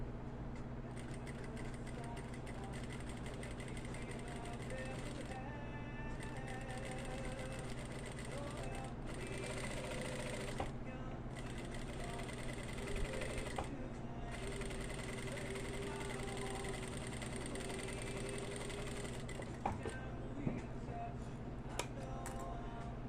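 A sewing machine stitches a women's sleeveless blouse with a steady, continuous motor whir and rapid needle hum, with brief pauses, while someone talks over it.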